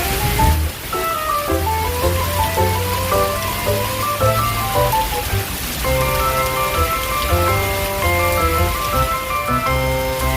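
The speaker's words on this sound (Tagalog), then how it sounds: "inabot kami ng ulan" Heavy rain pours steadily in a park, a dense hiss of drops on surfaces, with music playing loudly over it throughout.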